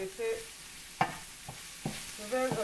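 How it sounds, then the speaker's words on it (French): Spiced chicken gizzards with leek, ginger and garlic sautéing in a pan, stirred in a few distinct scrapes and clacks over a faint, low sizzle, with a brief tonal sound at the start and end. "Et je vais remuer ceci pendant environ, je sale un peu"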